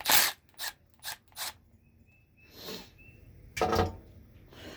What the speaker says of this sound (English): I'm going to zap off the second bolt, and then we're going to try mounting the coil in.